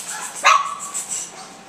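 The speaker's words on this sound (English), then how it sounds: "because that little Jayla just barks at him and she won't leave him alone" A single sharp dog bark at a poodle puppy, close and loud, followed by soft yips and whimpering sounds in a quiet room.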